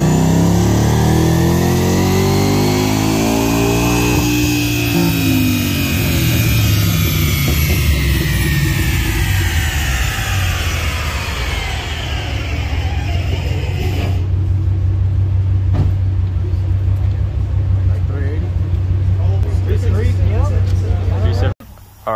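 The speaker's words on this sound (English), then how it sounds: "hope you guys enjoyed this clip of the Mustang going on the dyno" A Ford Mustang roars on a chassis dyno at a dyno meet, engine loud and close as it revs up through a long sweeping pull, then drops to a steady low idle rumble before cutting off.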